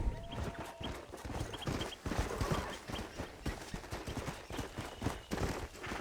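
Horse hooves clip-clopping in the video game Red Dead Redemption, a steady galloping rhythm of dull thuds over continuous ground noise, fairly faint and unbroken throughout.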